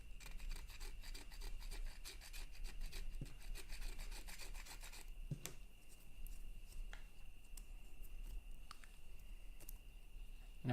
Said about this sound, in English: you can just very carefully scrape it away